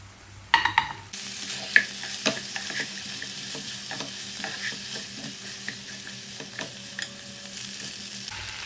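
Chettinad-style country chicken fries in masala in a pan, with a steady sizzle and frequent clicking, scraping spoon strokes as it is stirred.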